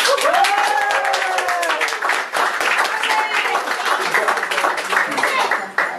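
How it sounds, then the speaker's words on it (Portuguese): A round of applause breaks out among guests at an arraiá party, dense clapping that carries on steadily, with voices and laughter mixed into it. "vamos expressar a nossa posição favorável com uma salva de palmas"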